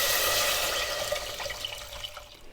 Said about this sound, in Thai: พอได้อย่างนี้แล้วเราก็เติมน้ำลงไปเลย